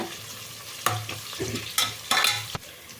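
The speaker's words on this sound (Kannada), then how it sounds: "ಈಗ ಇಲ್ಲಿ ಈರುಳ್ಳಿ ಚೆಂದಕ್ಕೆ ಫ್ರೈ ಆಗಿದೆ" Sliced onions frying in a pan for chicken pulao, a steady sizzle broken by several scraping stirs of a spoon against the pan.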